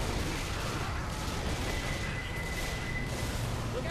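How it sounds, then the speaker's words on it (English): Pipe bomb in the zombie shooter Left 4 Dead 2, a dense, sustained rumbling blast that fills the whole stretch with a faint high beeping tone partway through. "I threw a pipe bomb, they're all going to it."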